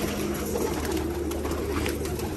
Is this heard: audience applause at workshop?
no